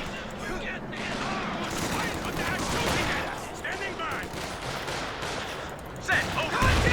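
Sherman tank firing a high explosive shell in Company of Heroes 2, dense overlapping gunfire and blasts from a large battle, with a heavier boom near the end.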